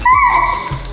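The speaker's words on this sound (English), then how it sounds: "That was a dog." A dog gives a short high whimper, a thin rising whine lasting under a second, close and fairly loud, with a brief low sound near the end.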